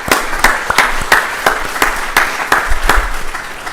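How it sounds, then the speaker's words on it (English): A small audience applauds at a library book event, steady scattered clapping with sharp individual claps over a few seconds, fairly close and moderately loud. "I just want to give applause for him."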